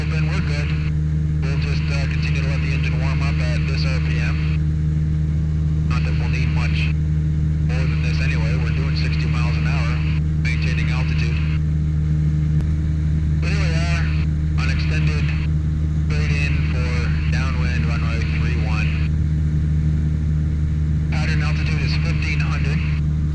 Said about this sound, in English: We'll just continue to let the engine warm up at this RPM.